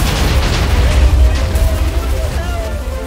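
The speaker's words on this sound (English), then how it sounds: "I died from the explosion" An explosion set off by a trap in a video game: a loud, rumbling low boom that fills the whole stretch, with dense crackling texture on top and a voice talking faintly underneath.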